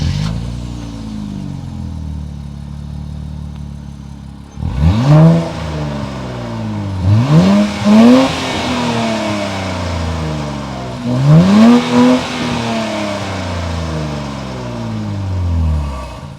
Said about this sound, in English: let's go ahead and take a listen to the exhaust and see how good this Nissan Z sounds.